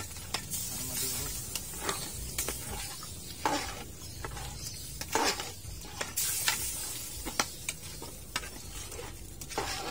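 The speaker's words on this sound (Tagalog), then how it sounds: "Haluin ulit natin para madurog." A spoon stirs dinuguan, a pork blood stew, in a cooking pot, with scraping strokes and wet sloshing over a low sizzle, close and irregular, without speech.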